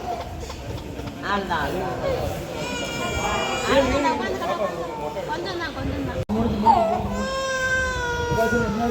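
A baby cries loudly and continuously in wailing, rising bursts. Adult voices and general chatter run underneath, at a temple visit for a head-shaving offering in Thiruchendur.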